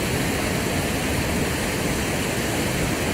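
Waterfall at Brooks Falls on a river in Alaska-style wilderness, a dense unbroken roar of rushing water filling the whole clip at steady loudness.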